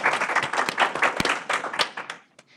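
A modest crowd gives a speaker a short round of applause at an evening investing event: loose, uneven clapping with a few sharp individual claps, fading out after about two seconds.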